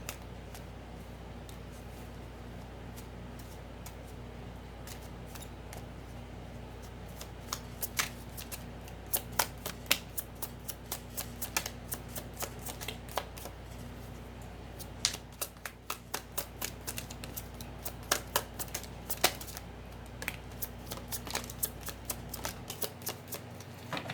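A tarot deck is shuffled close up, soft at first and then a long run of quick, crisp card riffles and slaps over a faint steady hum, with no talking.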